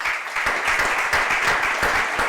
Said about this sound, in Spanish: Os pido un aplauso para ella.